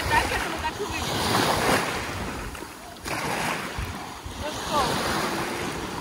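Sea waves wash steadily onto a beach, a continuous rushing surf with wind buffeting the microphone, loud and close, with swells rising and falling over the whole stretch.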